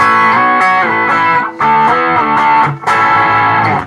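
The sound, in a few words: electric guitar through Digitech Hotrod distortion pedal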